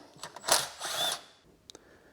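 Short whirring bursts from a power tool removing the head unit screws in a 5th-generation Toyota 4Runner dashboard, with two quick whines and then a pair of small clicks, close and without speech.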